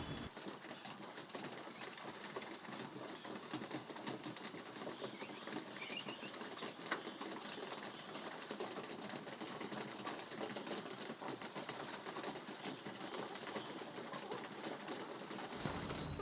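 Pigeons flutter and peck in a busy, faint patter, with soft cooing mixed into the steady scratching and shuffling.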